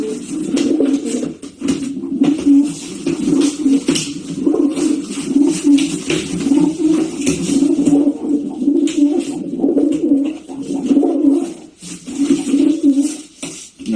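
A homing pigeon, a blue male, coos repeatedly up close, low throaty murmurs rolling on and off with brief pauses, alongside faint fluttering and scratching.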